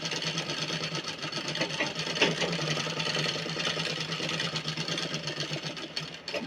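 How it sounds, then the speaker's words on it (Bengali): A sewing machine runs a strengthening tack stitch to join pieces while making a Patiala salwar, a steady mechanical whir with a brief knock partway through, close and continuous. "এদিকে এখানে চাপ সেলাই দিয়ে দিলাম।"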